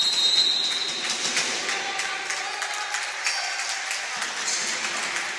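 Steady applause from a basketball crowd in the Palafabiani arena, a dense wash of clapping that holds through the whole stretch with no voices over it.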